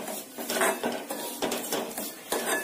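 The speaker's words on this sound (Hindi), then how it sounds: "हमें सूजी काफी धीमी आंच पे, लो फ्लेम पे इसको सेकनी है" Semolina roasting in ghee in a pan over a low flame while a spoon scrapes and stirs it, giving continuous gritty scraping with rhythmic metallic strokes about every half second, close and fairly loud.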